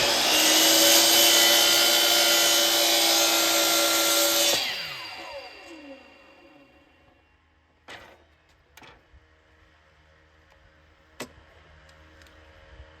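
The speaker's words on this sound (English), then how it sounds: "So I am ready to make a cut, and I'll show one" A power tool cuts wooden bowl segments with a loud, sustained high whine for about four seconds. It then spins down, followed by a few sharp knocks and clicks in the quiet after.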